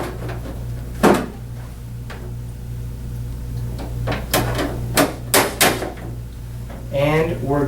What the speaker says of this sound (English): reassemble the reservoir top, thusly